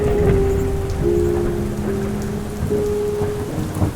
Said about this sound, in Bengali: বাইরের বৃষ্টির পরিমাণ রাতের অন্ধকার বাড়ার সাথে সাথে আরো উত্তরোত্তর বৃদ্ধি পেতে থাকলো।